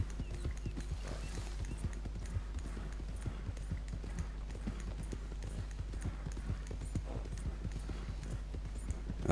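Horse hooves galloping in Red Dead Redemption 2 Online: a fast, steady clip-clop rhythm runs close and clear throughout, with occasional faint vocal sounds beneath.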